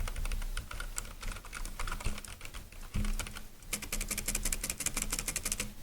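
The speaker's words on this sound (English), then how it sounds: "let me make you now listen to the keyboard switches, how they sound" Typing on a Razer Deathstalker V2 Pro TKL keyboard, a steady close run of quick key clicks that grows denser and louder in the last two seconds, with no voices.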